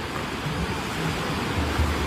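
Ocean waves roll onto a beach strewn with washed-up trash, a steady low rushing wash of surf with soft swells and no voices.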